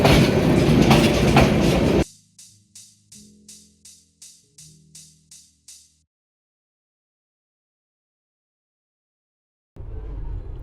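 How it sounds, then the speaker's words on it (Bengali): A loud passing Jayantika Express passenger train rumbles near Dhaka, then about ten rhythmic clacks of wheels over rail joints follow before silence, and the rumble briefly returns. "জয়ন্তিকা এক্সপ্রেস চলে এসেছে ঢাকা শহর এখন প্রবেশ করবে কমলাপুর স্টেশনে"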